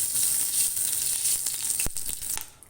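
A cup of oil goes into a pan on a lit stove, giving a steady high hiss with a few soft splashes, close and fairly loud.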